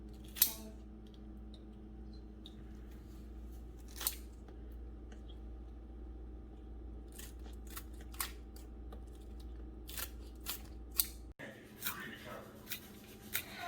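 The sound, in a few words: scissors cutting onion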